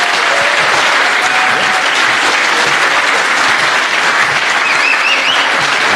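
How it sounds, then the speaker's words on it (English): An audience at a capstone project event claps for panels and presenters, a dense, steady, loud wash of applause filling the whole room without a pause. "one last round of applause for the presenters."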